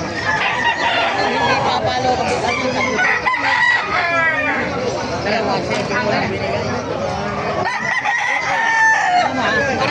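Many roosters crow over one another amid a dense, loud crowd of clucking and chatter at a market in Bocaue, with people talking throughout.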